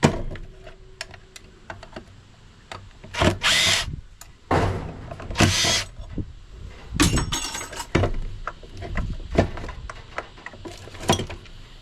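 Metal and plastic parts are smashed and wrenched while a motor is broken out of a scrapped 2008 film processor, with loud irregular crashes, bangs and tool whirs between quieter clatter, close up and without speech.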